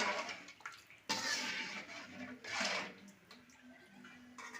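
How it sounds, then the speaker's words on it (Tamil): Water is poured into a cooking pot of simmering tomato, chili powder and coriander masala, making two short bursts of splashing and gurgling. The sound is quiet and close, with faint kitchen noise between the pours. "அதனால் தண்ணி ஊற்றிக்கிறேன்."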